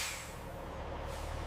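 A truck's air brake releases with a steady hiss at a weighing scale during a watermelon harvest, the sound held fairly evenly and moderately loud over low engine rumble, with no talking.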